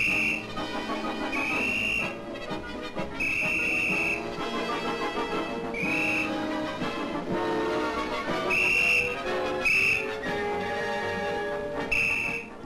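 A shrill old-type personal alarm whistle blows repeatedly in short and long blasts, loud and close, with no talking.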